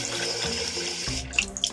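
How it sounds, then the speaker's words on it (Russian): Coffee runs from a kitchen tap in a steady, splashing stream that pours continuously and close by, with a few brighter splashes near the end. "у нас из крана течет кофе"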